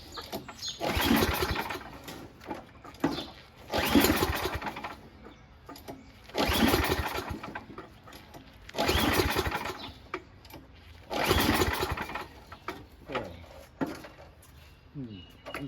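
A Tecumseh 9HP engine on a Noma Murray Snow King 27-inch dual-stage snowblower, primed and on choke with the throttle high, gives five separate pull-start attempts. Each is a loud surging crank that fails to catch, with pauses between pulls.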